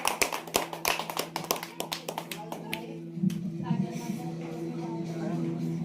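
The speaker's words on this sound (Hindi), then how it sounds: "अरे मारो ताली" Hands clap in a quick, loud burst of sharp, separate slaps at a student farewell celebration in a coaching class. The clapping thins out after about three seconds, and a steady tonal hum carries on alone.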